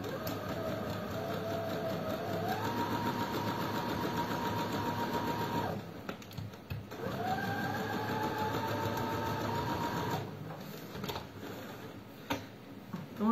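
A sewing machine runs in steady, close bursts as it stitches around a fabric lining for a sheep-shaped pin cushion, with brief pauses between runs and no talking.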